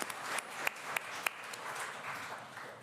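Conference audience applauding after a presentation, a fairly faint patter of clapping from many hands with a few sharper individual claps standing out early.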